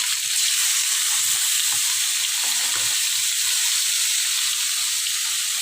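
Rohu fish with red amaranth fries in hot oil, giving a loud, dense, continuous sizzle close up, with soft crackles and no talking.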